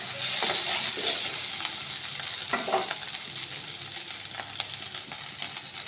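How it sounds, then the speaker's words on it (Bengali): Potatoes sizzle steadily in hot oil in a pan while being stirred, with scraping and clinking spatula strokes breaking through the continuous frying hiss, close and fairly loud. "আলুগুলো আমি ভালো করে নেড়ে চেড়ে ভেজে নেব"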